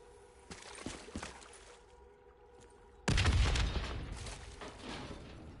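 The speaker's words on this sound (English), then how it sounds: "The explosion blocked our path." A large explosion and gunfire in the Call of Duty Black Ops 3 campaign: scattered shots and thuds, then a sudden loud blast at about three seconds with a long rumbling roar that slowly fades.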